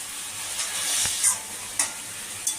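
Chilli paneer sauce sizzles in a pan while being stirred, a bright continuous hiss with several scraping strokes of the spoon at intervals, close and fairly loud.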